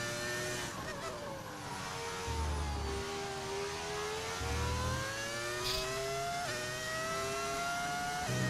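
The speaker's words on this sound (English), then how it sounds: "downshifting there, 6th and braking when I didn't need to" A Formula 1 race car in the F1 25 video game whines along with a steady engine tone that climbs and dips through gear changes, then drops as it downshifts under braking, all fairly faint and without talk.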